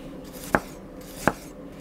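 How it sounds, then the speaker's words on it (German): Two crisp knife strikes on a cutting board, about three-quarters of a second apart, sound as onions are sliced into half rings, close and clear over faint room hiss. "Da werden wir uns ganz einfach nur so ein paar Halbringe runterschneiden."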